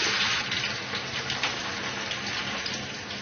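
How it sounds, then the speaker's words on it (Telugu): Boiled country chicken pieces frying in plenty of hot peanut oil for a pickle, giving a steady, dense crackling sizzle that holds loud and even throughout with no talking. "కుక్కర్లో ఉడికించిన చికెన్ ఉంది కదా ఇది వేసేసి వేయించుకోవాలి"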